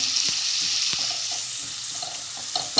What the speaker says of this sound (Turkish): Şimdi eritilmiş yağa bir çay bardağı tel şeriye ekleyeceğim